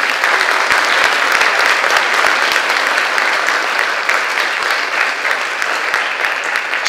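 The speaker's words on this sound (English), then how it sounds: "One more round of applause." An auditorium audience gives another round of applause at a school opening event, a loud, dense and sustained crowd clapping that fills the hall without pause.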